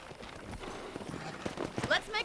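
Horse hooves clip-clop at a walking pace in Red Dead Redemption, soft and fairly quiet, under a voice speaking over the game audio.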